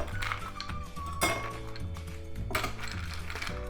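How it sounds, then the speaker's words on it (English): Ice cubes dropped into a cup while making Indian lemonade, several clattering, clinking hits in bursts over a few seconds, close and fairly loud. "we're gonna add our ice cubes into our cup"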